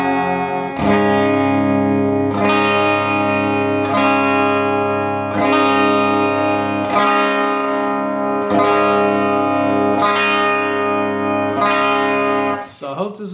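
Single-coil T-style electric guitar, a relic-finish custom build, with the neck pickup subtly blended in via the tone knob; a series of strummed chords rings out, each struck roughly every one and a half seconds and left to sustain, played alone at a steady, fairly loud level.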